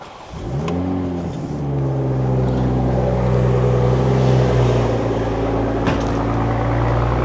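A stock 2022 Toyota Supra fires up with a brief cranking rise, then settles into a steady, fairly loud idle hum with no revving, heard alone.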